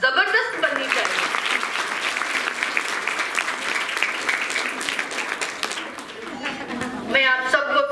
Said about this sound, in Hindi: उनके लिए तालियां जबरदस्त बननी चाहिए।